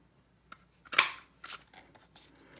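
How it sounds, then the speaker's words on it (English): A few sharp, crisp clicks and snips from a Stampin' Up! tailored tag punch cutting cardstock scraps, close and isolated against near silence, spaced irregularly over a couple of seconds. "I'm going to cut off the ends with the tailored tag punch"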